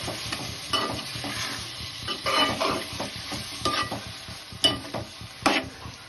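Chopped tomatoes frying in a pan with a sizzling bed of sound, broken by repeated spoon-scraping stirs and a few sharper clacks against the pan, close and clear with no talking.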